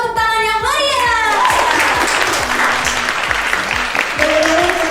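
An audience claps loudly at a hotel dinner event, steady applause filling the room while an upbeat musical sting and a voice ring out over it.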